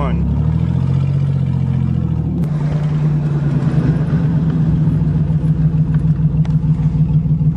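A 1990 Buick Century with a 3.3 engine drives steadily, its low, even engine drone loud and close throughout, shifting slightly in tone partway through as it pulls along.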